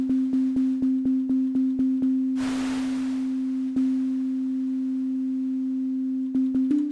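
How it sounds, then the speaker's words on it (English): A steady synthesizer sine tone, pulsed in a repeating rhythm, with a burst of hissy noise washing over it midway before the pulses return. "sine wave with a bit of noise over the top."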